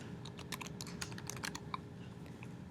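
Quick bursts of keystrokes on a computer keyboard as a name is typed, a close, fairly quiet run of irregular clicks over steady background hiss.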